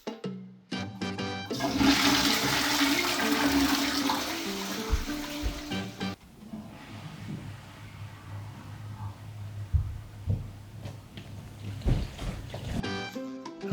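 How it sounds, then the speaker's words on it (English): Toilet flushing upstairs, heard through a soundproofed soil pipe during a house renovation: a loud rushing surge of water for several seconds, then a quieter gurgling drain-down with scattered knocks and trickles. "He's about to flush, if we can hear it."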